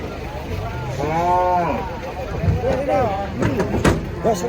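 A cow lows loudly with a long drawn-out moo as it is unloaded from a truck, followed by shorter calls, with people shouting and talking over the commotion.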